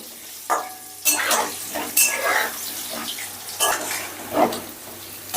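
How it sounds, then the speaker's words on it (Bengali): Potatoes frying over high heat in a home kitchen pan, a steady sizzle broken by repeated scraping stirs and clinks of a utensil against the pan, close and fairly loud with no talk. "এবারে গ্যাসের আঁচটা আমি হাই করে দিয়ে আলুটাকে বেশ লাল লাল করে ভেজে নেব।"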